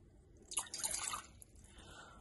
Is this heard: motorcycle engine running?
no